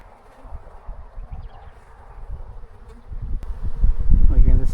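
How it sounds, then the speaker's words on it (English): Honeybees buzz around an open beehive at close range, a dense hum that swells louder toward the end, with scattered handling and rustling noises under it. "Kind of say excuse me to all these bees."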